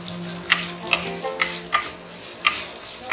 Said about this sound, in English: We'll just give it a nice mix for 2 to 3 minutes.